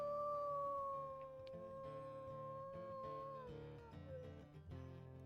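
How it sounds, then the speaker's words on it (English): Lone wolf howl in the video game WolfQuest Anniversary Edition, a long steady wailing tone that slowly bends downward, close and prominent over a quiet game soundscape. "His lone howl"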